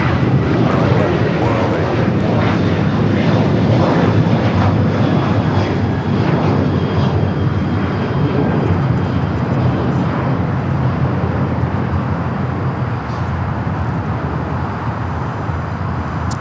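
Airplanes roar at Los Angeles LAX airport during takeoffs, a loud continuous jet engine rumble throughout, with voices faintly under it.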